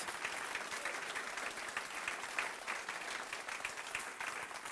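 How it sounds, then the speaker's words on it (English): Sustained applause from a sizable crowd, dense steady clapping that fills the whole stretch without pause, loud and close. "this deserves a huge round of applause"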